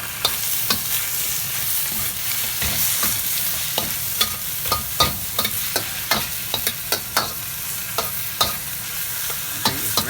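Bok choy sautéed in a pan, a steady sizzle punctuated by frequent sharp spatula scrapes and knocks in an irregular rhythm.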